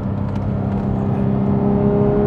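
A Porsche 991.2 GT3 RS rolls down an autobahn on-ramp, its engine a loud, steady drone with a constant low hum and no one talking.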